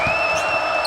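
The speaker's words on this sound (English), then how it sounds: "Hear the crowd going, getting those students going behind you." Students in a college basketball arena crowd cheering, a dense continuous roar with a steady high tone running through it, brief and loud.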